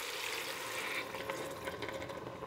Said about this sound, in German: Das gieße ich jetzt mit Wasser auf.